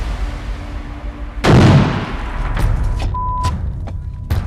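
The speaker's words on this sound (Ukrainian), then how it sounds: "Работает миномет." A single loud, deep boom from a mortar firing rings out, then fades into a lingering rumble with a few sharper clicks and thuds afterward.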